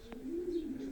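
Racing pigeons in a loft give a soft, low, sustained coo, faint and close, with a brief higher flutter near the start and no voices.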